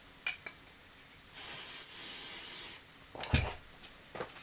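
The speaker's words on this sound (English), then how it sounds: "So I'm going to go ahead and give this a little shot of spray." Short hiss of spray applied to quilt fabric for a pillow, one steady burst lasting about a second and a half, followed by quiet handling clicks and rubbing nearby.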